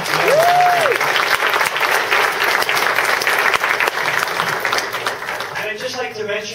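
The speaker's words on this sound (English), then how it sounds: "please give a great big round of applause to Ryan Betts, CTO." A meetup audience applauds a speaker, dense sustained clapping throughout with a short voice or tone at the start, tapering near the end.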